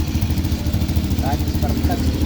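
A motorcycle engine idles steadily nearby with a continuous rumbling drone while a person talks over it.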